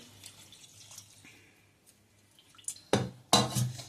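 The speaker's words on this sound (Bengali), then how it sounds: "এই জলটা দিলাম, আমার আরো জল লাগবে" Water goes into a cooking pot for thukpa noodle soup, with a few faint drips and clinks at first and then two loud close splashing pours near the end.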